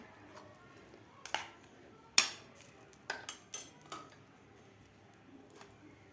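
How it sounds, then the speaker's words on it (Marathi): An egg bread omelette mixture with oil is stirred in a pan, giving a handful of sharp clinks and scrapes of a utensil against metal, irregularly spaced over a faint background sizzle. "आता आपल्याला हे मिश्रण थोडंसं हलवून घ्यायचं आहे."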